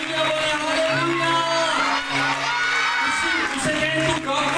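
A crowd at a children's worship conference in Rawalpindi cheers and shouts together in a steady, loud wash of voices, with sustained vocal tones and a worship leader's voice running through it.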